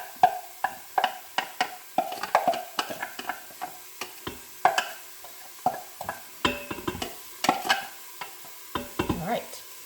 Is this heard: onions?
yes